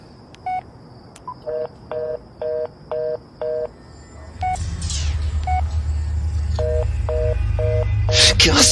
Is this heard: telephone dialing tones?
yes